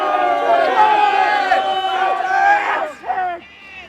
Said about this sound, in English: Every time a delegate arrives in their limousine, a great shout goes up from the crowd.